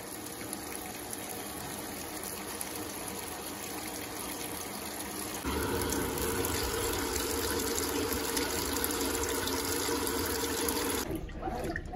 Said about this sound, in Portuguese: A entrada da água para o último enxágue com amaciante.